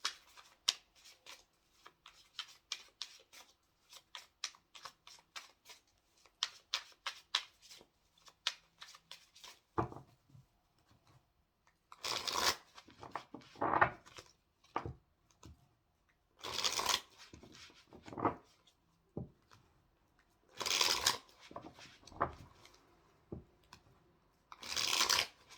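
A tarot deck shuffled by hand, a run of quick soft riffling flicks followed by several louder, longer bursts of cards sliding together with short pauses between, close and otherwise quiet.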